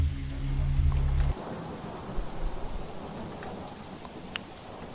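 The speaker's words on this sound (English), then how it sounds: "Listen to the thunder and the rain." Steady rain patters over a broad hiss while a deep rumble of thunder rolls through the first second and then fades, leaving the rainfall alone with occasional sharper drips.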